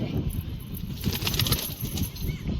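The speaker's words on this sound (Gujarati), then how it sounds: "આપણો આતિફભાઈનું કબૂતર જતું રહ્યું છે એટલે આપણે ઉડાડ્યું એટલે આપણે જોશું ઘરે પોક્યું કે ના પોક્યું." A released pigeon beats its wings in a fluttering burst, close by, with a low rumble of handling noise running through the short moment.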